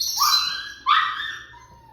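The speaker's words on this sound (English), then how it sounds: "Sorry about the dog barking." A dog barks indoors during a walk-through of a house's spare bedrooms, two sharp high barks in quick succession followed by a fainter trailing call, loud and close with no talking.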